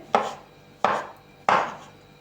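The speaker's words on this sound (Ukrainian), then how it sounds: "А також нарізаємо гриби печериці" Three crisp knife chops slicing champignon mushrooms on a board, evenly spaced and close, each a sharp thud that quickly fades.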